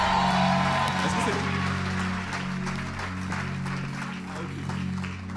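A church congregation applauds and cheers for Jesus after a healing testimony. The dense, steady clapping and crowd noise stays loud throughout, with a voice and a humming tone underneath.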